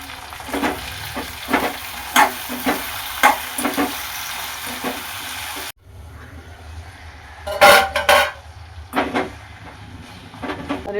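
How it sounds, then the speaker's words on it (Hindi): Tomatoes and spices are mixed and fried in a pan, with repeated scrapes of a stirring spoon over a low sizzle, the sound cutting out midway and then returning with a burst of clattering strokes. "अब इन सारे मसालों को हमें अच्छे से मिक्स करते हुए भून लेना है"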